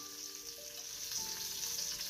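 Calf liver frying in butter in a pan, a steady soft sizzle with a faint hiss throughout, no voices.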